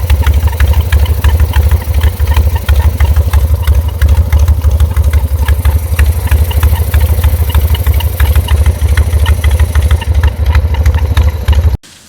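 Harley-Davidson motorcycle with a cowpie transmission idling steadily up close, a continuous engine rumble with rapid clattering ticks and a faint high chirp from a bearing, running alone until the engine cuts off at the very end.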